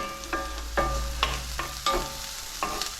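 Fatty Chinese sausage (lup chung) frying in a wok on high heat, with a constant sizzle under five or six sharp metallic scrapes of a spatula at a roughly even pace, close by.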